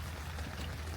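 Steady rain falls in the open at Yellowstone, a soft even hiss with low rumble underneath, faint and continuous with no voices.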